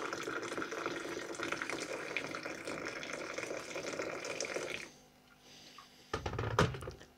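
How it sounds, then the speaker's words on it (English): Kettle water pours from a height onto coffee in a steady, rushing splash for several seconds, then stops; a short clatter follows near the end. "That's the coffee aerating with the air that's pumping into that water right now."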